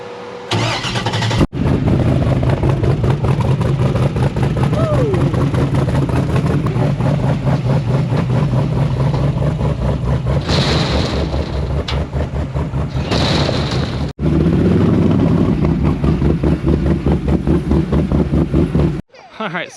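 A freshly tuned off-road vehicle's engine fires up and keeps running with a steady rumble, revving and pulling away on a farm property, while people talk over it.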